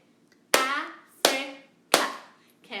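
Children clap their hands in unison during a sound-science lesson, three sharp, evenly spaced claps ringing out with brief decays and quiet gaps between them, a fourth beginning as the sound ends.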